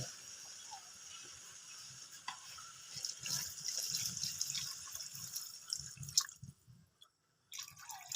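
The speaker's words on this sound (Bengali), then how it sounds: "এবার আমরা ঝোলে পানি দিয়ে দেবো।" Water poured into a simmering chicken and papaya curry, a soft trickling and dripping that runs steadily for several seconds, then cuts off briefly before the sound resumes.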